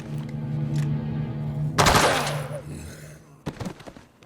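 Gunfire in the video game Dead Rising 2, a loud burst of shots over a low droning background, followed by a couple of fainter cracks.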